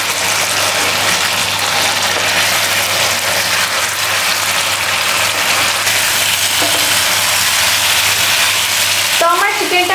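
Chicken and potatoes frying in a pan, a loud continuous close sizzle with occasional stirring scrapes toward the end.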